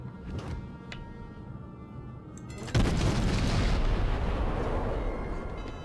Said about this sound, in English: I'm going to shoot this battleship.